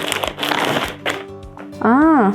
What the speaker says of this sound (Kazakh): Давайте енді пакеттегі тауарды ашып көрейік.